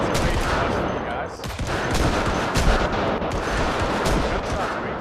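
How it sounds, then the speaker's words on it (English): Gunfire in the video game Project Zomboid, a dense continuous barrage of loud shots with little pause between them, filling the whole stretch with bursts that run together like a fusillade. "Let me know if the gunshots are way too much for you guys."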